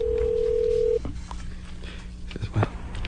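A telephone line carries a steady dial tone for about a second, then breaks off into a few short, brief keypad tones and clicks, with faint room noise underneath and no voices.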